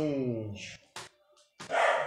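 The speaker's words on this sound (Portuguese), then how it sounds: "você vai ouvir o barulho do cachorro" A dog barks a few short, sharp times at home, set between stretches of conversational speech from podcast hosts, the barks fairly close and moderately loud.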